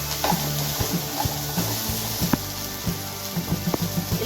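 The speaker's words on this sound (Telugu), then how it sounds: "ఇలా కొన్ని వేసి వేయించుకొని పక్కకు తీసి మళ్ళీ ఆయిల్ వేసుకొని ఫ్రై చేసుకోవాలి." Okra pieces frying in hot oil in a pan, a steady close sizzle with scattered crackles and pops, some soft stirring clicks, and no talking.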